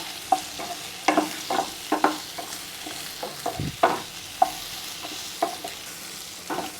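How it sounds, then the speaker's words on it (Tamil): Potatoes coated in chili powder sautéing in a pan while being stirred for dum aloo, with repeated sharp scraping and tapping of a spoon over a steady sizzle close by. "மிளகாத்தூள் போட்டிருக்கிற உருளைக்கிழங்க இதில் போட்டு கொஞ்சம் சாட்டே பண்ணணும்"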